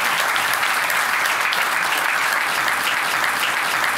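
A studio audience claps loudly and steadily through a Hungarian talk show panel, a dense unbroken wash of many hands with no voices over it.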